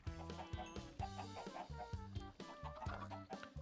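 Chickens in a modded space-travel video game world cluck steadily in rapid, overlapping bursts, close and fairly loud with no talking.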